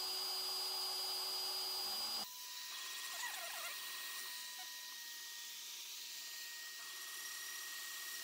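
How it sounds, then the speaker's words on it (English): CNC router spindle running while machining a guitar body, a high whine that cuts off abruptly and then settles into quieter whirring with shifting tones, close and steady, no voices. "I'm going to go ahead and turn on the spindle."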